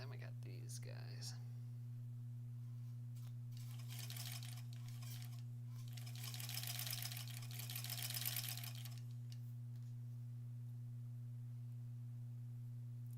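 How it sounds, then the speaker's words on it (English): A sewing machine stitches tiny quilt pieces together in short, soft runs, faint and close, over a constant low electrical hum. "It's kind of fun sewing these tiny, tiny pieces together."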